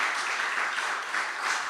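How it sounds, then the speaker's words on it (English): Audience applause for the MCs at a talk, a steady dense wash of clapping from many hands held at even strength throughout, with no voices over it. "I think they're needing another hand of applause."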